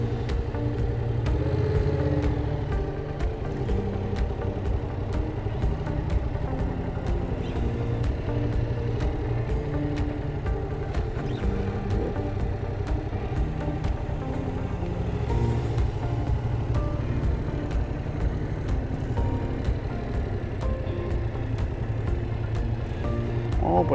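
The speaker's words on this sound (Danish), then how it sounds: "Langsomt slalom gennem keglerækken her og holde helt stille med motorcyklen i balance." A motorcycle rides a slow slalom through a row of cones during a driving-school exercise, its low engine rumble running steadily and moderately loud for the whole stretch.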